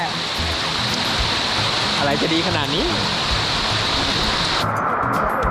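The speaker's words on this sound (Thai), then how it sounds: "น้ำสะอาด จากภูเขา ลำธารเล็กๆให้เราได้แช่" A small, clear mountain stream spilling over a low weir, a steady loud rush of water throughout, with someone speaking briefly over it.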